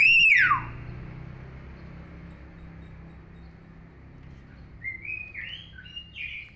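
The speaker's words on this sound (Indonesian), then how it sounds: "Suara Beo bisa disebut cukup keras." A pet hill myna (beo) gives one loud, sharp descending whistle-like call at the start, followed by quieter chirps and squawks near the end, with no talking.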